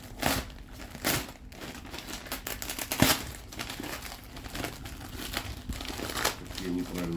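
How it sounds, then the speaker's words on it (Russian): Crinkling and ripping of a postal package's wrapping being torn open by hand, a close, steady rustle with several sharper tearing bursts throughout. "Как я неправильно рву."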